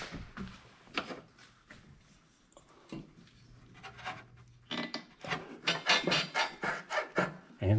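A rubber exhaust hanger slicked with tire lube is worked into its hole on a car exhaust, giving repeated squeaky rubbing and rasping strokes that grow quicker and louder toward the end, close and with no talking.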